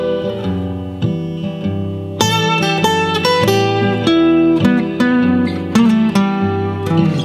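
A lead guitar solo, melodic single-note lines and phrases with sustained notes over backing chords, loud and up close, no talking.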